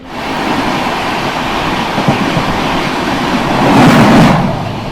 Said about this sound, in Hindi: Mumbai CSMT Howrah mail via गया